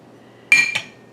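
Two quick metallic clinks of a spoon against a pot while stirring kielbasa veggie tortellini soup, close and fairly loud over a quiet background.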